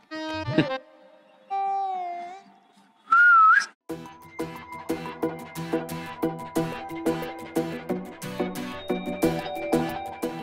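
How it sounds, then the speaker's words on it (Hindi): Someone whistles a few short tuneful phrases, rising and sliding, then a steady rhythmic plucked melody follows with no talking. "सीटी बजा रहे हैं।"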